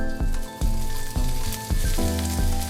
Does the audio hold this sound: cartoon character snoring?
no